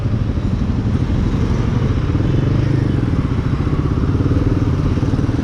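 A Royal Enfield Himalayan 450 motorcycle engine runs loud and close in traffic with a steady throbbing rumble, riding continuously without a pause.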